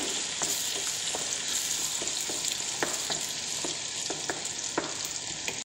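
Garlic, tomato and ginger sauté in oil for chicken biryani, giving a constant bright sizzle with scattered clicks of stirring and pan contact, close and even throughout, without any voices.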